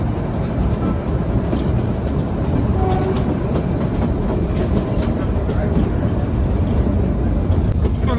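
Kalka-Shimla toy train running on mountain tracks near Solan, a close, continuous rumble of wheels and carriages with soft clickety-clack and rattling that stays steady throughout.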